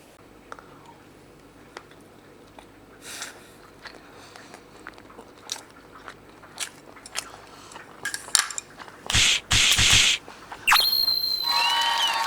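Braised herring being eaten: sparse faint clicks of utensils and soft chewing, building to louder bursts of close mouth and dish noise near the end, no talking.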